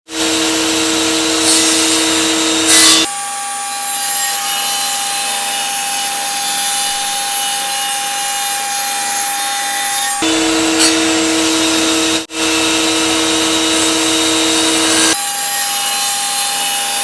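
A table saw cuts slots into a piece of firewood held in a spiral jig, the blade whining loud and steady through long passes, briefly spinning down and then biting into the wood again.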